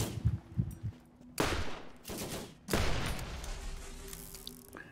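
Gunfire in the Borderlands video game, Game of the Year Enhanced edition, comes as several loud, sharp bursts of shots with rattling tails, separated by short quiet gaps.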